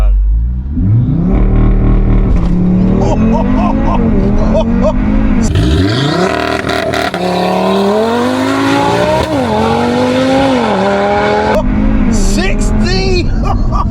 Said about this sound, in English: So we're gonna do a 0 to 60 now, yeah?